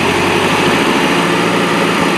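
MerCruiser 470 3.7L marine engine running, an open-deck four-cylinder giving a loud, steady, buzzing drone with constant tone and no pauses, close up and without speech.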